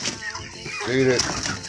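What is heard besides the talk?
chickens clucking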